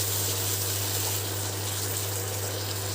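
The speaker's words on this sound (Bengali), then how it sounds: "এই সময় আমি সামান্য জল অ্যাড করব।" Water poured into a pan of raw banana kofta curry while cooking, a steady wash of rushing, hissing flow with a low hum beneath, continuous and fairly loud for a few seconds.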